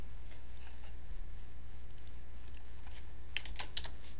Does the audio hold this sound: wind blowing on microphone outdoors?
no